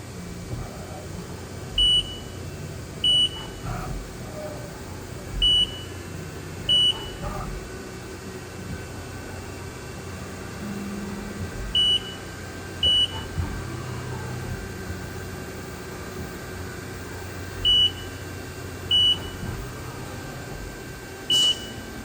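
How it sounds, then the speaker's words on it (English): A CNC machine runs an automatic probing cycle in a shop, sounding a series of short, evenly pitched electronic beeps spaced irregularly, often in pairs, over a steady background hum. "I just hit cycle start and it probes automatically."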